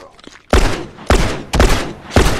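Heavy gunshots in The Last of Us multiplayer, four loud booming blasts spaced roughly half a second apart, each with a short decaying tail, close and prominent with no talk over them.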